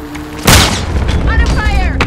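A stun grenade detonates in Call of Duty Modern Warfare as a single loud sudden blast, followed by a lingering wash as in-game voice chatter carries on.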